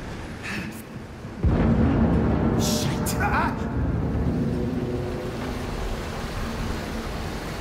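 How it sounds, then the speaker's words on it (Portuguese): Rushing water floods an oil rig in the horror game Still Wakes the Deep, a sudden loud surge that breaks in and then keeps roaring as a heavy wash, with a brief voice cutting through early on. "Tá inundando tudo."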